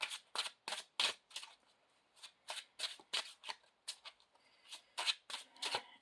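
Gold foil tarot cards being shuffled in quick, rhythmic bursts, a dozen or so crisp riffles and slaps repeating steadily for several seconds, close and with no talking.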